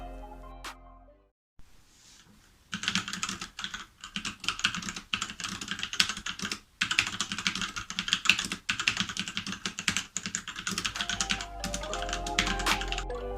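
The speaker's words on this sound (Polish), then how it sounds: "przez swoje przełączniki pisze się na niej bardzo miło" Steady, rapid typing on an SPC Gear GK550 mechanical keyboard, its quiet switches giving close, soft clicks and taps in dense bursts with brief pauses, heard alone after a short quiet start.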